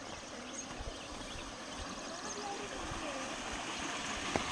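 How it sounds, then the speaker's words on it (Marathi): Hot spring water at Unhavare near Dapoli flows continuously in a steady, even rush that fills the whole scene at moderate volume. "हे बघा किती मोठं पाणी आहे आणि कंटिन्यू होत आहे."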